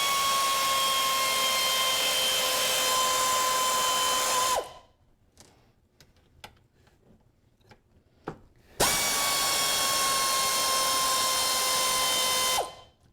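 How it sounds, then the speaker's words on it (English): A cheap pneumatic air ratchet used in a machine shop buzzes loudly in two long, steady runs separated by a few seconds of quiet clicks and handling. "this tool really works well for such an inexpensive tool. El Cheapo air ratchet."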